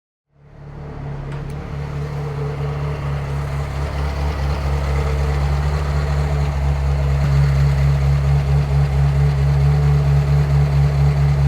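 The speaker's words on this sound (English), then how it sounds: "Wait until you hear this one with the exhaust and the high flow cats" A Ferrari F355 engine with aftermarket exhaust and high-flow cats idles steadily with a deep, throaty exhaust rumble, starting up from silence and holding a constant low drone throughout.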